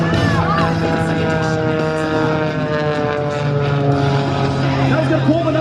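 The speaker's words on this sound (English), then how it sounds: "This aircraft is powered by a Lycoming 8IO 540 engine." An aerobatic airplane with a Lycoming IO-540 engine performs at an air show, its steady propeller drone loud and continuous with a shifting pitch, while an announcer talks over it.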